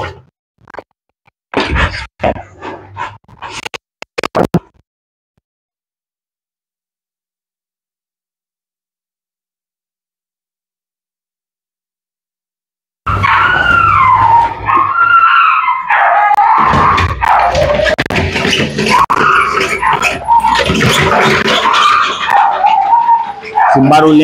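Loud, continuous high-pitched whining and yelping with bark-like bursts from a pit bull on a dog treadmill, preceded by brief sharp sounds and a long silence.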